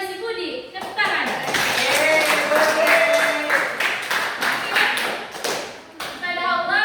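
A high school class bursts into steady group clapping for a few seconds, dense and close, with a teacher's voice heard briefly at the start and end.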